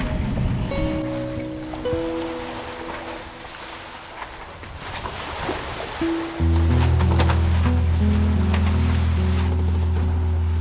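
Choppy, confused sea sloshing and rushing around a sailing boat, with a constant wash of wind and water, and a low, steady engine-like hum that grows louder toward the end.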